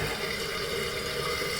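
A toilet tank refilling with water gives a steady rushing hiss and trickle, continuous and close throughout the short stretch.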